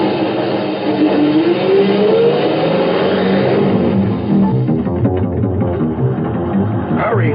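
A truck engine accelerates in a radio drama, a loud, steady roar that holds for several seconds with rising pitch, and a brief higher whine comes near the end.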